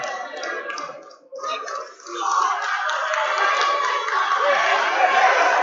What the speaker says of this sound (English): Council Rock faithful are really cheering on and congratulating their team for a job well done